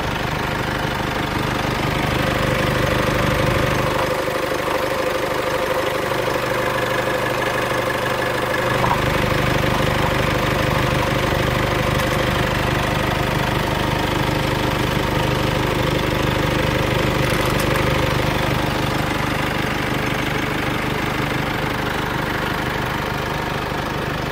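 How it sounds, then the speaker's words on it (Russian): A 2008 Kia Sportage engine idles steadily in good condition, a continuous close mechanical hum with even low rumble and no talking. "двигатель работает прекрасно."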